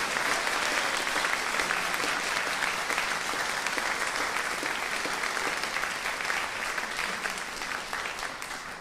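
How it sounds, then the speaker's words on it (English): A gathered congregation or school assembly gives a round of applause, dense steady clapping from many hands that fills the room evenly and fades slightly toward the end, with no speech over it. "Can we give them a round of applause?"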